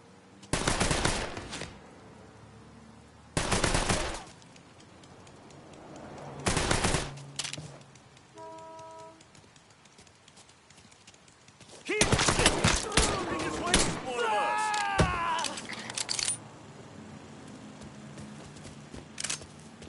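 Gunfire in a PS4 shooter video game: several loud bursts of automatic fire separated by quieter gaps, with a cluster of shots midway and excited voices talking between them.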